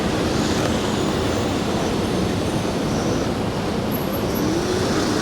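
Dense New York City street traffic rolls by during a ride on a custom 72V RoadRunner electric mini-bike, a steady, loud, broadband rush of passing vehicles and road noise with no pauses and no talk.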